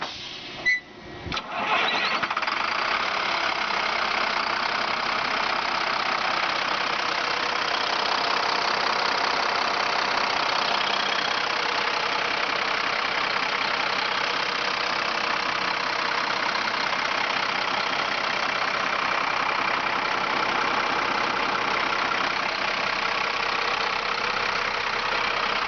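A truck engine cranks briefly and catches, then settles into a steady, loud idle that runs on without a break.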